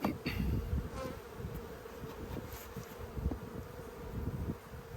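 Bees swarm around a small nuc hive in a close, dense buzz, with individual insects droning past the microphone in overlapping waves, and no voices present.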